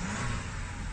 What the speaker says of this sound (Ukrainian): Штатний вихлоп.